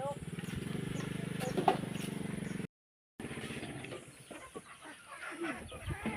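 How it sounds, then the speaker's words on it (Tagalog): Chickens cluck on a farm, mixed with scattered bird calls and low background murmur, with a brief dropout to silence midway before the clucking and rustling resume. "Chicken dito, manok doon."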